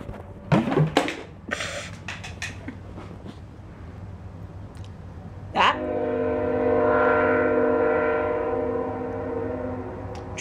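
A passing train rumbles near and loud, then its horn sounds a long sustained multi-tone blast over the last half, after a few brief knocks and a voice early on.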